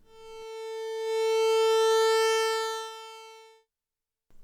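An Arturia MiniBrute 2 analog synthesizer holds a single bright, buzzy sustained note for about three seconds, swelling slightly in the middle before stopping cleanly, with no talking.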